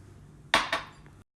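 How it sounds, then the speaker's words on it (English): A plate set on a bowl of packed shrimp fried rice is flipped and the bowl lifted away, giving two quick ceramic clunks close by, then quiet. "Next, you're going to put the plate on top of the bowl. Then flip it around and slowly remove the bowl."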